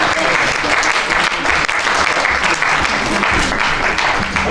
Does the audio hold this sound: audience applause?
yes